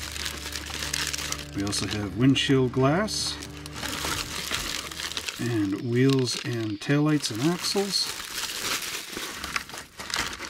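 Plastic bags from an AMT Buick Opel GT model kit crinkle and rustle up close in bursts while someone talks over the unpacking.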